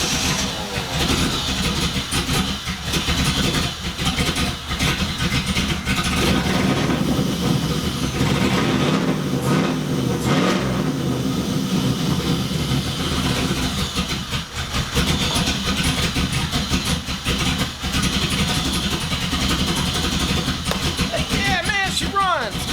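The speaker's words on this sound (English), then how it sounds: "And it's holding the low idle. I think it's learning how to idle." A car engine with manifold leaks and earlier fire damage idles after an idle adjustment, a loud continuous rumble holding steady throughout with a person talking over it.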